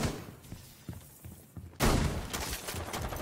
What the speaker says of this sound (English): I got shot through the window.